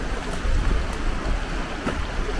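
Hot water flows under a bridge in an abandoned Romanian town, a steady broadband rushing wash heard up close with gentle swells and no talk.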